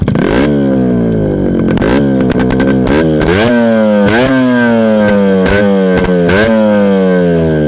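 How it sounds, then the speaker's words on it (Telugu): A used motorcycle engine runs loudly close by, revved repeatedly in sharp bursts that climb and fall back to a steady idle, with no talking over it. "ఇంజన్ సౌండ్ ఏమే కానీ ప్రాబ్లం లేదు చూడండి."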